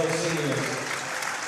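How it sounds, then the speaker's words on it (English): A high school basketball crowd at Ludington vs Reed City applauds as the seniors leave the court. The clapping is faint and steady under a commentator's voice. "they're getting a well-deserved round of applause"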